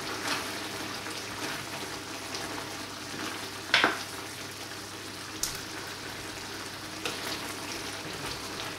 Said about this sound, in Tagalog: Haluin uli natin.